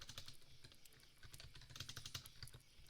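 Rapid typing on a computer keyboard, quiet close-up clicking keystrokes in quick irregular bursts, alone with no voices.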